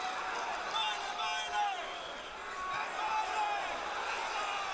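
Roaring crowd at a pro boxing match in Atlantic City, Kovalev versus Álvarez, a steady dense wash of excited voices with brief swells, close and loud, with no clear single voice on top.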